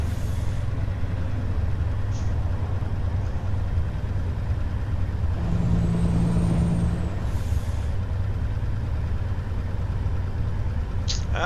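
A Kenworth T908 truck in American Truck Simulator drives with a steady, heavy engine drone, while a brief hiss of air brakes rises midway over the continuous rumble.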